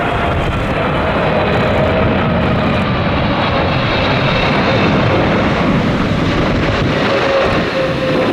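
A Boeing 777-300 jet landing in a crosswind at Narita gives a loud, steady roar of engine noise and rushing air, with a whining tone and wind buffeting the microphone throughout.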